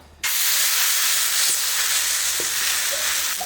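Palm tuber dosa batter thickened with rice flour hits a hot pan and bursts into a loud, sudden, continuous sizzle that holds steady with faint crackles throughout.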